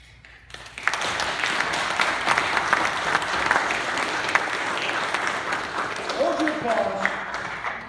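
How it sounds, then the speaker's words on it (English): Audience applause at a retirement gathering, dense steady clapping that swells in after a quiet start and continues for several seconds, with a voice speaking faintly near the end. "Hold your applause"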